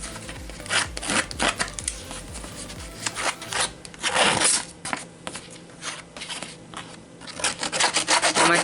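Repeated rough rasping and rubbing as scrap paper edges are distressed in short up-and-down strokes, close up and uneven in rhythm, with no talking.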